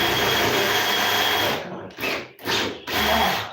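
A DeWalt power drill whirs loudly and steadily close up, then stops and restarts in a few short bursts.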